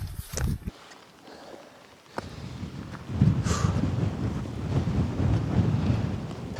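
Strong wind on a mountain via ferrata in the Alps buffets the microphone in heavy, rumbling gusts, starting after a brief quieter stretch and then roaring continuously.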